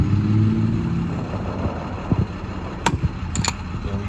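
A truck engine idles at a gas station with a steady low rumble throughout, joined by a few sharp clicks or knocks near the end; no one speaks.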